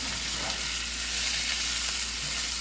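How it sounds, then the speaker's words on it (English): Colorful vegetables sautéing in a pan, a continuous, even sizzle with faint stirring, close and steady throughout. "I'm just going to saute them for about another 2 minutes"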